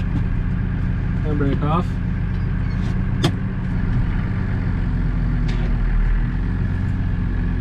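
A farm tractor engine runs steadily with a deep, loud idling rumble as it moves forward in second gear, with a few mechanical clicks and a brief clunk, while a person speaks over it.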